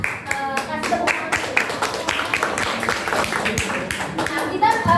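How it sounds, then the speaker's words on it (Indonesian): Students in a school classroom clap together, a dense patter of many hands lasting a few seconds, mixed with children's voices talking over it. "Nah, kasih tepuk tangan."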